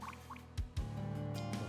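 Water drips in a Final Fantasy VII video game, two low plopping drops landing close together over a quiet ambient hum with faint higher droplet ticks.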